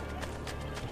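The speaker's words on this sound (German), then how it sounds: "Pferdchen." Horse hooves galloping in Assassin's Creed: Brotherhood, a quick run of clip-clop beats fairly close, with a steady game hum beneath.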